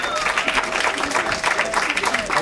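Audience applause at a public comment session on a proposed bluffs hotel, a dense, steady wash of clapping from a crowd throughout, fairly loud with no gaps.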